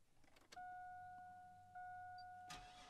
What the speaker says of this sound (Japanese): はい、エンジンがあっさりかかります。 でアイドリングの音、振動、その他気になるところないですし